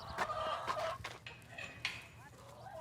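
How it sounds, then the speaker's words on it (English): Laying hens cluck and bawk in a chicken coop on a farm, several birds calling close by in irregular bursts over a low background hum, with a voice murmuring faintly among them. "So this is where we have all of our laying hens."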